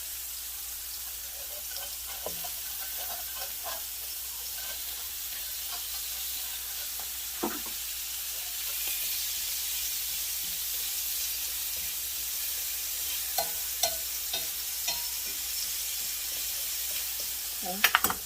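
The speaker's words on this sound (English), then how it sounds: "throw in our onions and let them get a little brown" Onions and mushrooms fry in a pan, a soft steady sizzle punctuated by scattered clicks and scrapes as they are stirred, faint throughout and rising to a few sharper knocks at the end.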